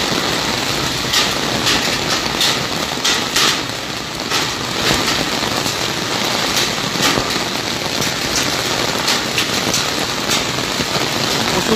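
Heavy downpour with hail in Arambagh hisses loudly and continuously, scattered brighter clatters of hailstones breaking through the steady wash of rain, with no talking.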